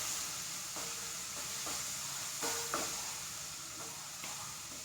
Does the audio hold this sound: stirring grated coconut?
yes